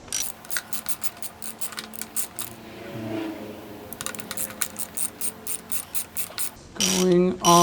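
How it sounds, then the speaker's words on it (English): A ratchet wrench tightens a bolt with rapid, crisp clicking strokes in repeated bursts and a short pause midway, followed by a louder, rougher burst at the end. "See if I can get this ratchet on this thing and make it a lot easier for me"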